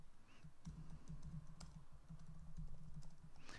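Soft, rapid keystrokes on a computer keyboard as a form title is typed, with a steady patter of clicks close by and faint throughout.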